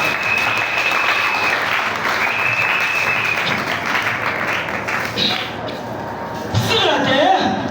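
Church congregation applauding during a sermon, a dense steady wash of clapping from many hands filling the room, with a preacher's voice and music faintly underneath.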